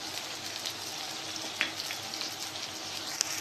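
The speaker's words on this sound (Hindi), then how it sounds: "ये सारे सामग्री को हम फ्राई करेंगे।" Powdered chili, coriander and cumin with ginger-garlic paste fry in oil over onions for a pea chaat, giving a steady soft sizzle with faint crackles and pops throughout, alone without talk.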